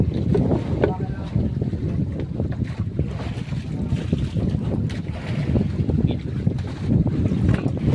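A small outrigger boat out at sea with heavy wind buffeting the microphone, a steady low rumble and splashing throughout.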